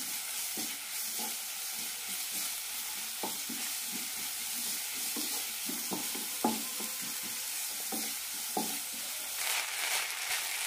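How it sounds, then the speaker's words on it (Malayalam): Rice is stirred and roasted in a hot pan with ghee and softened tomato: a steady low sizzle runs throughout, broken by soft repeated scrapes and clinks of the spoon against the pan. "രണ്ട് മിനിറ്റ് അരി നന്നായി ഒന്ന് വറുത്തെടുക്കാം."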